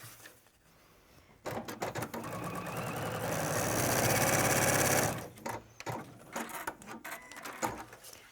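A sewing machine stitches a straight line, its needle running in a steady, fast mechanical whir for several seconds before stopping; quieter handling and shuffling of fabric surround the run.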